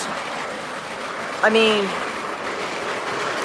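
A model train runs along its track with a steady rolling rumble and one brief squealing, whistle-like note midway. A voice speaks briefly.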